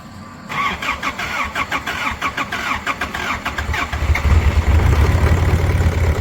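A diesel engine from a totaled Toyota 4Runner with heavy blow-by cranks on glow plugs in rapid rhythmic pulses, then catches and settles into a loud, rough idle, close and without talk.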